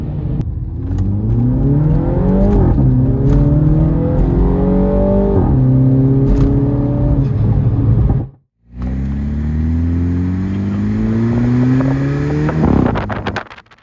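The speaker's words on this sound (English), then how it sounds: "even with the modded exhaust, it's not too loud at highway speeds" A MINI Cooper with a modified exhaust accelerating hard, engine droning upward through several gear changes with rising pitch, one brief cut near the end, loud and heard from inside the car.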